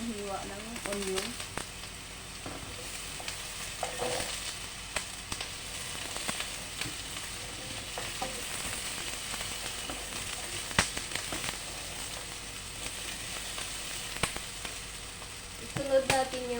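Large onion slices sizzle and fry in a pan, a steady bright crackle with occasional scrapes and knocks of stirring, close and continuous, with faint voices in the background.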